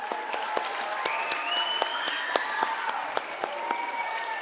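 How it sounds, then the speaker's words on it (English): Audience applause from a crowd at a live wildlife talk, steady dense clapping at moderate distance lasting several seconds with no voices over it. "A round of applause."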